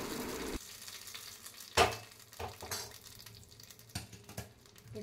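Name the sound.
tempering spices sizzling poured onto peanut chutney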